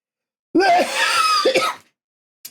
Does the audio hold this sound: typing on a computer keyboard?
no